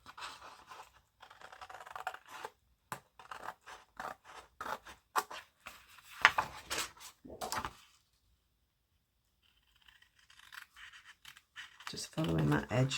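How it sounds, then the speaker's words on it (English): Scissors cutting around a patterned paper card panel, with a series of crisp, close snips and scratchy paper slices in an uneven rhythm, a quiet pause partway, then more rustling and handling. "cut all around your panel"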